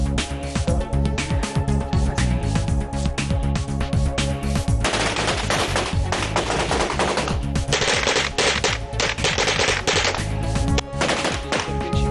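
Gunfire during military firing training, with rapid machine-gun bursts and repeated shots, loud and continuous across the whole stretch and echoing outdoors, with no speech heard.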